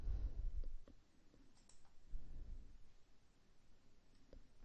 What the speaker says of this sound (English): I just go to the bottom and click Save Draft.